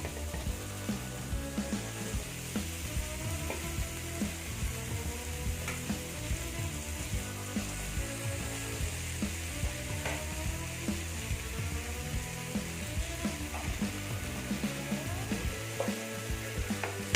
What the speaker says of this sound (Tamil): இதை மீடியம் ஃப்ளேமில் கொஞ்ச நேரம் இது ஃப்ரை பண்ணலாம்